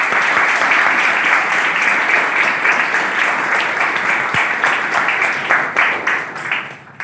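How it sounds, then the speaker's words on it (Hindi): An audience at a business recognition event in Mumbai gives loud, sustained applause, dense clapping that stays strong before gradually thinning out toward the end. "जोरदार तालियां"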